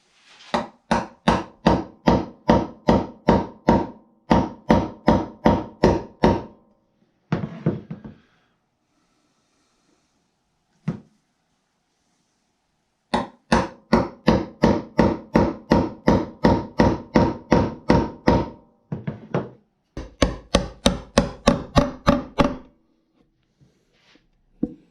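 Sharp, evenly spaced chisel strikes chopping into wood come in fast bursts of a dozen or more blows, with short pauses between bursts, loud and close in a workshop.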